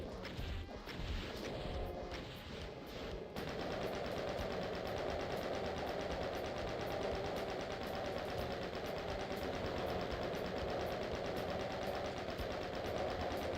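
Rapid rifle fire in the DOOM video game, a dense, steady stream of fast, evenly spaced shots layered over continuous game noise, fairly quiet and without talking.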